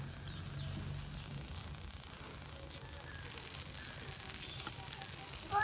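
A small amount of oil sizzles faintly on a hot pan while a dosa cooks, a low steady crackling hiss that stays soft and even throughout.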